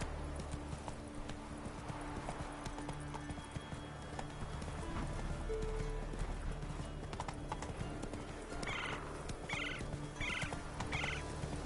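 Roach, the horse in The Witcher 3, trots with steady, rhythmic clip-clopping hooves over a continuous game ambience, with a few high bird-like calls near the end.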